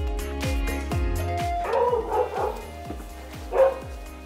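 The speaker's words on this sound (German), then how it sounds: "Jax mich im Flur so angebellt hat, bin ich bei mir geblieben." A dog barks repeatedly at someone in an indoor hallway, a quick run of sharp, loud woofs and yips close by, with a couple of louder outbursts toward the end.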